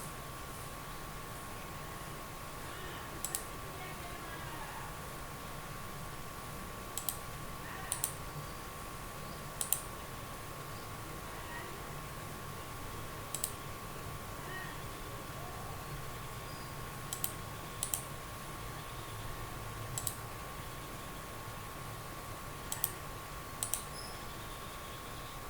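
Sparse, sharp mouse clicks sound one or two at a time at irregular intervals over a quiet computer room hum with a steady tone, close and fairly soft.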